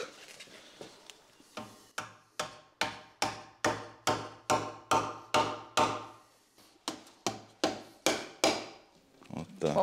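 Hammer blows on a French house construction site strike in a steady, fairly close series of about twenty sharp, ringing impacts, speeding up and then slowing, with short gaps between strikes.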